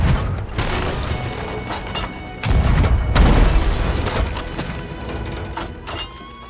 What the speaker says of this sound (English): So that is a detonation